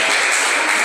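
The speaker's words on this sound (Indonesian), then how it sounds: "Tepuk tangan buat Yesus" Applause from a church congregation after two men convert, a dense, steady wash of clapping filling the whole short moment with no gaps.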